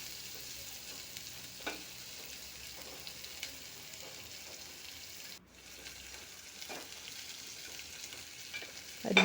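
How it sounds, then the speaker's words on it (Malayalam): Onions sautéing in a pan, a soft steady sizzle with occasional faint stirring taps, fairly quiet throughout. "സവോള നന്നായിട്ടൊന്ന് വഴന്ന് കിട്ടണം."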